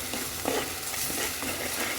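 Chili powder, salt and spices being stirred together for a village-style chicken curry, a steady scraping and shuffling of a spoon through the mix, close and continuous with no voices.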